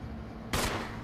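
A single sharp gunshot in the video game Resident Evil, a sudden close crack with a short decaying tail after a quiet lead-in.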